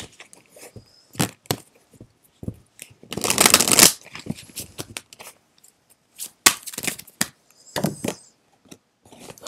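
Oracle cards shuffled by hand for a tarot-style reading, a series of close, crisp riffling bursts and soft card slaps at an uneven rhythm, with no talk.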